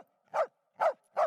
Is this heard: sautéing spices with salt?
no